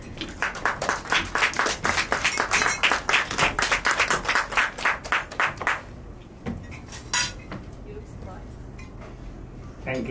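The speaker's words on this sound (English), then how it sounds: "Please give him a big round of applause." Quick, crisp clapping from an audience at an award show as a speaker is welcomed, a burst of sharp claps that thins out after about six seconds, leaving scattered claps and quiet room noise.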